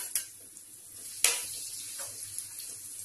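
Chopped onion frying lightly in a pan for mutton kofta gravy, a faint sizzle under a sharp metallic clink of a utensil on the pan and a few softer scrapes.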